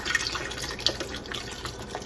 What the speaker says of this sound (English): I'm gonna pour the Guinness in here.